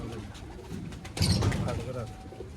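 Racing pigeons kept by a pigeon fancier coo softly and steadily nearby, mixed with faint rustling, while people talk over them.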